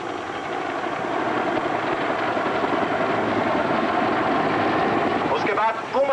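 Military Puma helicopters fly over in formation with a loud, continuous rotor thump and turbine roar, while a commentator speaks over the sound near the end.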